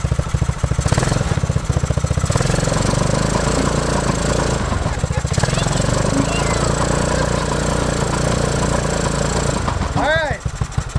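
A mini Grave Digger monster truck engine runs steadily up close, a loud buzzing drone like a small lawn-mower motor that persists throughout, with a brief squeal near the end.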